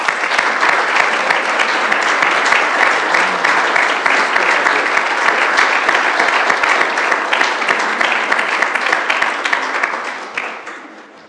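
Audience applause at a regular council meeting after an award announcement, a dense, loud, sustained roar of clapping that holds steady for about ten seconds and then tapers off at the end.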